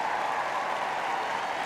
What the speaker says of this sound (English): Applause rings around the Emirates for a former Arsenal great.